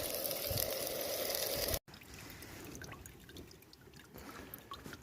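Fresh, peaty moorland water trickles and drips steadily, quiet and close, with a sudden cut partway through before the soft trickling resumes.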